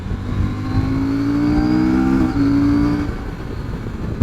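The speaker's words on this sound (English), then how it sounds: "The engine is a stonker. It's accelerating more than there's plenty more in it than I'm giving it" A CF Moto 800MT motorcycle engine pulls hard under acceleration, its tone rising steadily and loudly, with a brief dip midway before climbing again.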